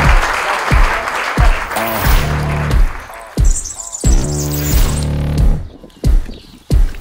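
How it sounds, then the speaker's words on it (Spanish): Applause at a town festival in Cascante rises at the start, then blends with loud music carrying a heavy, pulsing beat and sustained tones. "pido antes de nada un fuerte aplauso antes de emitir el vídeo"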